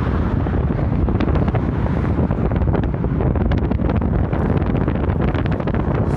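Strong wind at the Megyeri Bridge in Hungary buffets the microphone with a constant loud rumble and roar, no talking, steady for the whole stretch.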